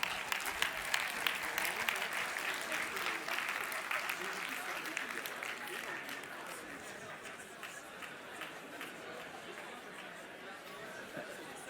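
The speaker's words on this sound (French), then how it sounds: "Ouais, vous pouvez vous applaudir." An audience at a live talk applauds itself after a one-minute exercise, a dense, sustained wash of clapping with some crowd chatter mixed in, fading slightly toward the end.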